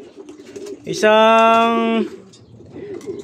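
A racing pigeon at a fancier's loft gives one sustained, loud coo of about a second, rich and tonal. Quieter background noise and faint speech come before and after it.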